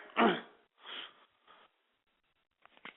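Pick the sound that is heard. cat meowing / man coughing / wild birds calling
man coughing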